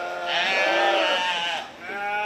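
Sheep bleat loudly and close by at a county fair 4-H livestock judging contest, one long wavering bleat followed by a second shorter call after a brief pause.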